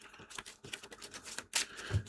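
A deck of cards for The Two Towers trick-taking game is shuffled, giving quiet, quick papery clicks and flicks with a brief louder riffle near the end.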